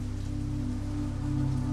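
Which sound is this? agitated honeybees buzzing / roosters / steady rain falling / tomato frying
steady rain falling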